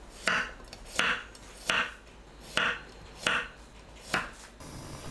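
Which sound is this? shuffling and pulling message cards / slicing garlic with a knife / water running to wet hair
slicing garlic with a knife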